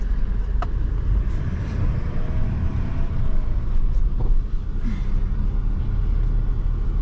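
A vehicle drives along a detour through a riverbed around a washed-out road in the Pilbara, giving a steady, loud low rumble with wind buffeting throughout and no talk.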